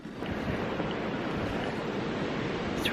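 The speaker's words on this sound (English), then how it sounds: "It's really, really cold and windy, like bitter." Cold, bitter wind blowing steadily through a deep snowstorm, a continuous loud broadband rush buffeting the microphone without a break and with no voices.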